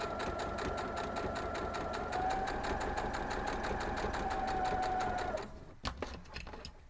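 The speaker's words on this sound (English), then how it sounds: "sew down this side again on the inside" Sewing machine running steadily as it stitches a seam on a diamond star quilt block, a close, fast rhythmic whirring chatter that keeps going for about five seconds, then stops and leaves a few soft clicks.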